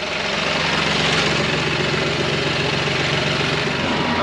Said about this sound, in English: let's see how the tractor does pulling this load home